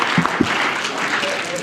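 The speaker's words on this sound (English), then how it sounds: "A round of applause for the blue gentleman." At a Rhode Island Comic Con panel, an audience breaks into steady applause. Dense clapping fills the hall without a break, with a few voices faintly mixed in.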